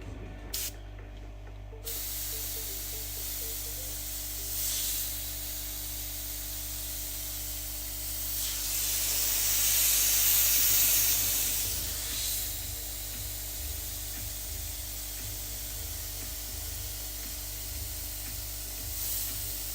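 An airbrush sprays new paint in thin lines, making a continuous close hiss throughout. The hiss swells briefly louder in the middle as the trigger opens further.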